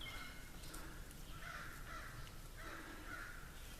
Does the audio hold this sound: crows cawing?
yes